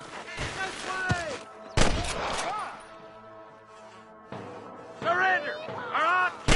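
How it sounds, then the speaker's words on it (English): Gunfire in the Red Dead Redemption video game: sharp bursts of shots in separate clusters, loud and punchy, with lines of voiced dialogue from the game interleaved between and over the volleys. "I can hear more gunshots."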